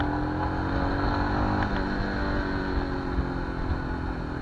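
A Royal Enfield Himalayan motorcycle engine picks up speed on a snowy Ladakh mountain road, its steady loud drone and rising harmonics continuous throughout, with no one speaking.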